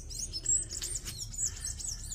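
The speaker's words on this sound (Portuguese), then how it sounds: "Enquanto isso, o pássaro cantando, né?" Bird singing in a home garden, a string of high thin chirps and whistles over soft background hum, close and clear with no voices.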